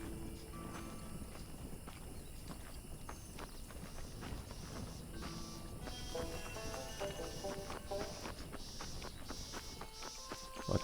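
Horse hooves clip-clop steadily in the video game Red Dead Redemption, a continuous walking rhythm under game ambience and background sounds, with no talk over it.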